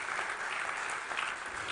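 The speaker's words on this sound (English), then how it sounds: "Please give them a big round of applause." Steady applause from a conference audience at a tech disruption awards event, a dense, even wash of clapping that holds at full strength for under two seconds with no pauses.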